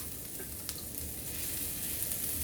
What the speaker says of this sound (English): And now I'm going to add my noodles